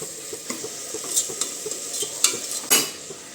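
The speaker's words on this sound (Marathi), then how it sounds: "आपण टाकून घेणार आहोत बारीक चिरलेला टमॅटो आणि टमॅटोसुद्धा चांगला परतून घेणार आहोत" Finely chopped tomato being sautéed in a pan for a mixed vegetable dish: steady soft sizzling with close, light scrapes and taps of a spoon stirring.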